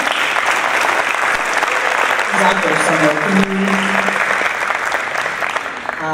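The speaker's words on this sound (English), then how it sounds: "let's give them a round of applause again." A round of applause from a conference audience at a keynote opening, steady dense clapping filling the room while someone talks briefly over it.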